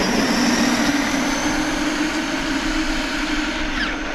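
Traxxas E-Revo electric RC trucks race side by side, giving a loud, steady high-pitched motor whine that holds constant with no pauses and no voices.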